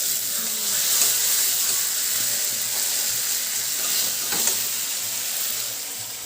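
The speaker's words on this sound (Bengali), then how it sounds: "এই দেখুন বাবুর জন্য মাংস ভাজা" Meat fries in a wok with a constant close hiss of sizzling oil and occasional soft stirring scrapes, holding an even, moderately loud level without any talk.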